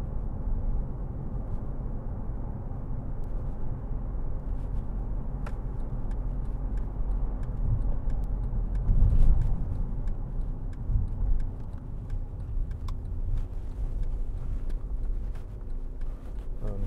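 A 2011 Mercedes-Benz C200 drives along a road, a steady low engine and tyre hum heard from inside the cabin with faint wind noise and a few soft thumps.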